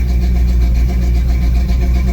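An old red truck's engine idles while warming up, a loud, steady, close rumble with an even pulsing throb and no talking.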